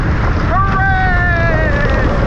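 Wind roars loud and steady against the microphone on a gentle wooden roller coaster at Walygator Parc Grand Est in France, with a rider's voice whooping over the rush.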